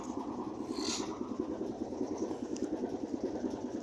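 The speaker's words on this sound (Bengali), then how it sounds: "আপনারা ইঞ্জিনের শব্দ শুনতে পাচ্ছেন।" The engine of the Parabat 12 passenger launch boat runs with a steady, rapid chugging beat. It sounds fairly close and moderately loud, with a faint brief hiss early on and no voices.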